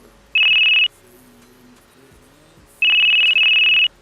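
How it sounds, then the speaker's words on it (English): A telephone rings with two electronic trilling bursts, the second longer than the first, separated by a quiet gap. "Starts to ring."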